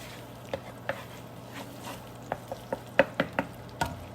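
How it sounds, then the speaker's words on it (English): Butter melts in a pan with a soft, steady sizzle, while sharp clicks and taps from a utensil against the pan come in an irregular series, moderately close. "Butter's almost completely melted."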